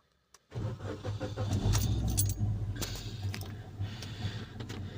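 A manual car is started with the key: a click and keys jangling, then the engine cranks and catches, settling into a close, rumbling idle with rattling clinks over it.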